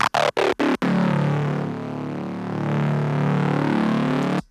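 Four sharp stuttering drum hits cut in quick succession, then a loud sustained bass-heavy tech house drop rolls on without voices.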